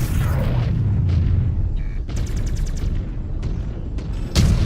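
Salvo of missile launches and impacts from a mech's weapons in MechWarrior 5: Clans, a rapid cluster of booming bursts with a rattling series of pops midway and a loud blast at the end, dense and continuous with no talk.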